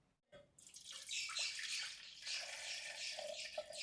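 Spiced buttermilk, a milk-free Kerala sambharam, pours into a container in a steady splashing liquid stream after a brief silent start, close and continuous, with no talking.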